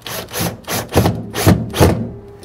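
A screw is driven in to secure a plastic pivot bushing on blind corner cabinet hardware, heard as five or six close, rhythmic rasping turns in quick succession with no talk.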